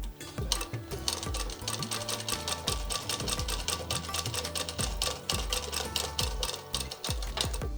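A sewing machine stitches a half-inch curved seam around a blouse neck facing, a fast, dense run of clattering needle strokes, close and continuous, with no voices.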